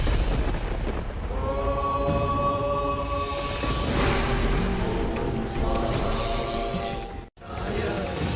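A dramatized thunderstorm in a devotional mythological drama produces loud rumbling crashes and rolling thunder over sustained music tones, ending in a sudden cut before the storm resumes.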